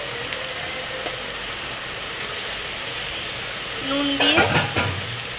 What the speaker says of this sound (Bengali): ভেজে নেবো আলুটাকে।